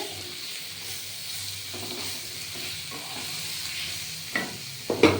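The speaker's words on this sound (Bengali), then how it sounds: "আদা রসুন বাটা আচ্ছা এবার এটার সঙ্গে এটা ভাজা হচ্ছে" Ginger-garlic paste fries quietly in a pan with a soft, steady sizzle, broken by a few scraping stirs that grow louder near the end.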